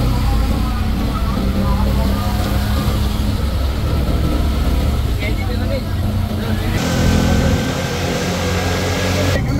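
Yamaha Riders Club motorcycles set off from a motorcycle gallery in Agrabad, Chattogram, in heavy rain, engines droning and rumbling steadily nearby under a continuous wash of noise, with talking over the top.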